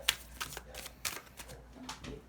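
Tarot cards being shuffled and handled in short papery bursts, several quick riffles and slaps spread across a couple of seconds, close and fairly quiet with no talking.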